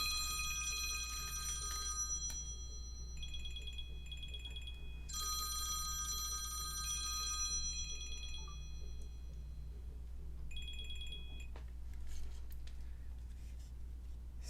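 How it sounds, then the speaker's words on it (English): A mobile phone rings in repeated electronic trilling bursts with short gaps, heard at moderate level over a steady low hum in an indoor room, continuing for over ten seconds without talk. "Sorry, my phone was ringing."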